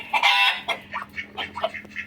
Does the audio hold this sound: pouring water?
no